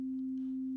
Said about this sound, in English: right now we have a sine wave